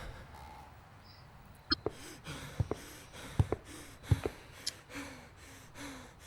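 Slow, heavy breathing in the horror video game Paralyzis, with rasping inhales and exhales repeating steadily, mixed with a few sharp clicks and taps nearby.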